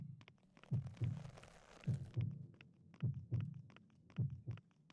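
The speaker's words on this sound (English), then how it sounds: "Still not a fan of spoopy games with heartbeat noises" Slow, muffled double-thump heartbeat in a spooky game, about four beats repeating steadily, low and fairly quiet with a brief hiss of noise near the start.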